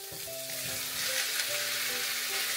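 Pork pieces fry in a hot pan with a loud, dense, steady sizzle and crackle, with faint tonal hums running underneath.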